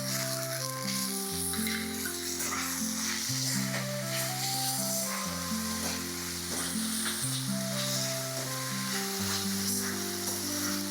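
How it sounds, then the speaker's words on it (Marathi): Chopped tomato with ginger garlic paste fries in a pan for dal tadka, a constant soft sizzle running beneath a steady melodic music track. "आता 1-2-3 मिनिटांसाठी आपल्याला हा टोमॅटो चांगला असं एकजीव शिजवून घ्यायचा आहे"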